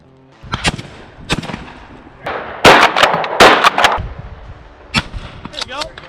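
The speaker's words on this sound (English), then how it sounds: "just enjoy the outdoors and shoot some clays" Shotgun blasts at a sporting clays outing outdoors, about six sharp, loud reports spaced irregularly with ringing tails, some close together, with faint voices in between.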